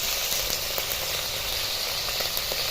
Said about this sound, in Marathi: आणि हे तेलात चांगली डाळ परतवून घ्यायची